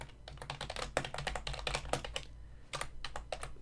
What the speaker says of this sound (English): I am typing up a storm real quick.